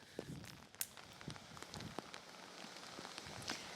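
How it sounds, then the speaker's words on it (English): Faint rain from Hurricane Debby at landfall in Steinhatchee, Florida patters and crackles on a surface outdoors in irregular soft taps, with a low gusty wash underneath. "the wind and rain continues to pick up here in Steinhatchee, Florida"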